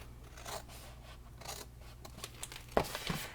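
Scissors cutting through card stock to make a small gift box, a few soft snipping and rubbing strokes close by with one sharper crunch near the end, no talking.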